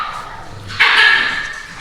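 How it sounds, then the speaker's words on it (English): Dogs bark and yip nearby in a home, a brief burst of loud, strained barking rising after a quieter stretch and fading out over a couple of seconds. "These dogs."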